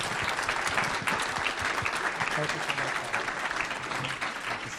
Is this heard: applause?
yes